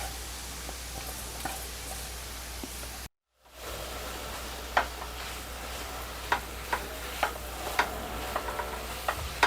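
A paneer barfi mixture is worked in a pan over a low gas flame, with soft scraping and stirring strokes over a faint background hiss. A brief gap of silence comes partway through.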